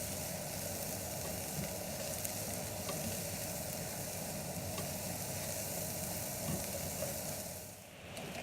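Mushrooms and zucchini fry in a pan and get stirred for a vegan risotto, with a strong, continuous sizzle and occasional scraping that briefly dips near the end.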